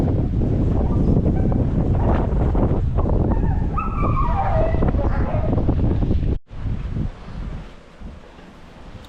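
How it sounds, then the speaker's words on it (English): Strong wind at a beach on Gran Canaria roars and buffets the microphone loudly and steadily, briefly cutting out before gusting on more unevenly. "I already have my jacket on because I was a little bit cold because it's very windy."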